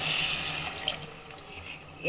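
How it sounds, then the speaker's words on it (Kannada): Water is poured from a vessel into rice for tomato bath, a splashing, gurgling stream that runs loud at first, eases midway and swells again at the end. "ನಾನು ಈ ಟೈಮಲ್ಲಿ ನೀರು ಹಾಕ್ಕೊತಾ ಇದ್ದೀನಿ"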